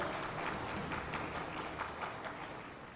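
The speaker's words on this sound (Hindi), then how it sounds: "जोरदार तालियां" Audience applause at a Ramayana quiz competition program in India, a dense patter of clapping that holds steady and fades slightly toward the end, fairly soft and without talk.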